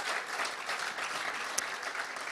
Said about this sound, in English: Zua, please give yourself a round of applause